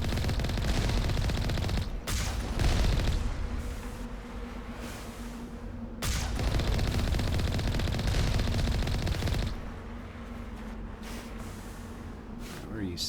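Rapid automatic turret fire in the sci-fi shooter Mass Effect, a sustained mechanical burst that surges and eases over several seconds, loud and continuous, with a voice talking over parts of it.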